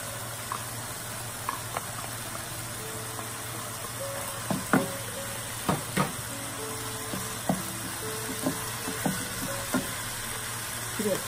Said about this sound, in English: Add the chopped onion,